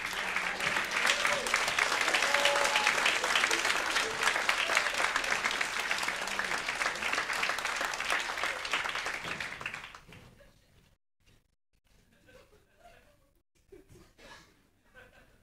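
Audience applause at a theater cabaret show, a dense loud wave of clapping with scattered laughter that holds for about ten seconds, then drops away abruptly to faint scattered sounds.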